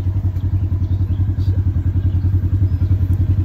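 Side-by-side utility vehicle engine running nearby with a loud, steady low-pitched chugging pulse and even rhythmic throb, with no talk over it.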